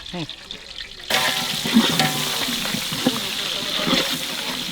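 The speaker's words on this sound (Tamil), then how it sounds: "பிரியாணியில ஏலக்காய் பட்டை சோம்பு போட்டுடலாம் அப்படியே போட்டு அப்படியே போட்டு முக்கால் வாசி வெங்காயம்" Cardamom, cinnamon, fennel and onion frying in oil for biryani produce a steady, loud sizzle that begins abruptly and continues close up, with faint clinks under it.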